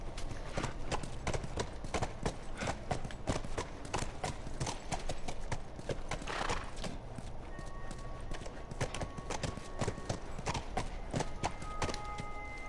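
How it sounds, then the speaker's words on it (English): Steady clip-clop of horse hooves trotting throughout in the video game The Last of Us, close and continuous, with a faint tonal chime later on. "Stay with the horse."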